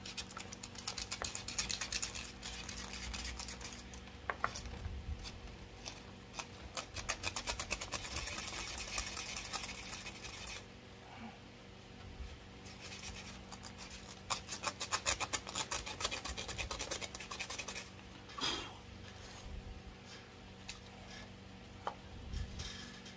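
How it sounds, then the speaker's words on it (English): Sandpaper rubs over a wooden scroll saw basket in a long series of scratchy, irregular strokes, close but fairly quiet, with no talk. "I'm just going to take some sandpaper here. Clean that up a little bit."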